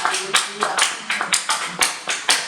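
Church congregation clapping in a steady rhythm, about ten sharp claps in a row, with voices mixed in.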